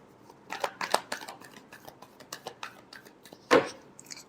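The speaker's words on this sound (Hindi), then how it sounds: "Last shuffle." Tarot cards shuffled by hand up close, a rapid run of soft papery riffles and flicks ending in a sharper slap near the end, quiet and without talk.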